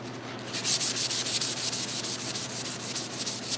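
Steady rhythmic scrubbing of a Scotch-Brite pad across a 1968 C10 pickup door during final sanding, close and fairly loud, with regular back-and-forth strokes and no talking.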